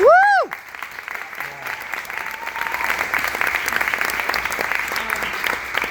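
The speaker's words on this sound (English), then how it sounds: "You're clapping for the DAF." An audience claps steadily for a donor fund during a theater community talk, a dense, even patter that rises after a brief opening tone and carries on alone to the end.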